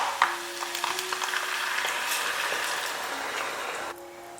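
Broth from boiled pork pours into a pan of sliced meat and sauerkraut, making a steady sizzle and bubbling with faint clinks near the start, which drops off abruptly near the end.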